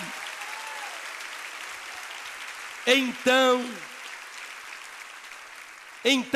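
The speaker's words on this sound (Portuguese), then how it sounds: "Você pode dar um aplauso ao Senhor?" A church congregation at an evening service of Lagoinha Baptist Church applauds steadily throughout, a dense, continuous wash of clapping with brief bursts of a voice speaking over it.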